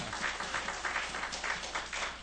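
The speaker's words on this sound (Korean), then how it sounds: "박수 한번 보내주세요" Applause from a church audience at a Baptist fellowship gathering, a steady dense patter of many hands clapping throughout, moderately loud and continuous with no talk over it.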